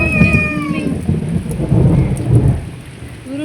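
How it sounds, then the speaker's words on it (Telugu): A village thunderstorm: deep rolling thunder rumbles over steady, loud rain pattering on surfaces, with no voices. "ఉరుము మెరుపులతో కూడిన వర్షం పడుతుంది."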